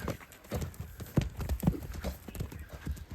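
Hooves clip-clop in a quick, irregular rhythm as a horse runs, fairly faint and somewhat distant, over a steady background hiss.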